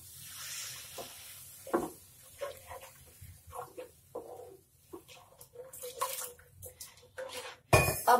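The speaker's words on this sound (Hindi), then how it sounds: "और इसके साथ मैं पानी डाल दूंगी।" Water poured into a pan of oats and vegetables in a home kitchen, with a short splash amid irregular clinks and knocks of a pan and utensils, close and fairly quiet, ending in a louder clatter; no talking.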